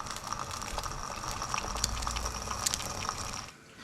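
Maggi noodles boil in a pot of water with a steady, close bubbling and hissing churn that runs evenly for several seconds before cutting off abruptly near the end.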